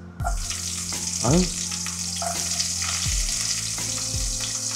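Chopped onion frying in a hot pan for ginataang hipon, a steady close sizzle broken by several sharp utensil clanks and stirring scrapes, with no talking.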